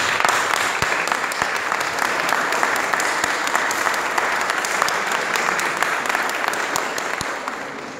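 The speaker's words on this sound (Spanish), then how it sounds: "Un fuerte aplauso." Strong, sustained applause from an audience of school alumni at a photo exhibition marking a college's 177th anniversary, dense steady clapping throughout at an even, loud level.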